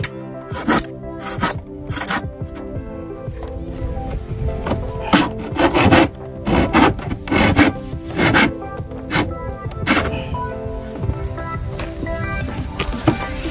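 A hand saw cutting very hard wood: rough, rasping back-and-forth strokes in an uneven rhythm, some strokes grinding and catching, loud and close, with no talking.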